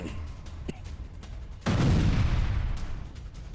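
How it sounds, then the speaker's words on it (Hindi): Howitzer artillery shelling Russian positions in Ukraine: a sharp crack of a firing blast midway followed by a long rolling rumble that decays slowly, with a few fainter thuds before it in the distance. "होवित्जर तोप से रूसी ठिकानों पर बमबारी की गई है।"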